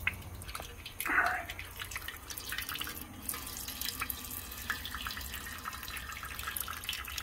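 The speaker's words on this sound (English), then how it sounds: "let me let that drain a little bit and then take the filter off" Old engine oil drains from a 5.3 engine into a pan, a faint trickling and dripping with an occasional louder splash, in a quiet garage.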